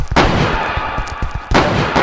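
Loud, sharp gunshots crack in quick succession, a burst at the start and another near the end, over dense, noisy game audio.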